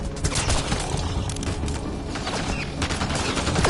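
Dense, sustained gunfire from the video game Mass Effect Andromeda, a loud, continuous fusillade of rapid shots and bursts with no pauses and no talk over it.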